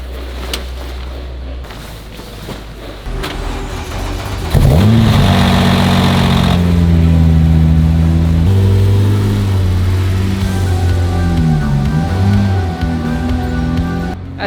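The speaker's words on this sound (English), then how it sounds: "As you can hear, the old and new Longtail still has idling issues" Acura NSX NA2 engine with an idling fault, a steady low mechanical drone that swells briefly louder partway through before settling into an uneven, close idle, heard alone.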